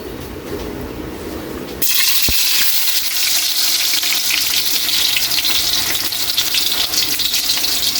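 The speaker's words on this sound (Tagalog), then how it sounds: "Kay mainit na yung mantika natin. Lagay na natin yung bawang." Garlic dropped into hot cooking oil sets off a sudden loud, steady sizzle that starts after a quieter moment and continues evenly, close and bright, with no talk over it.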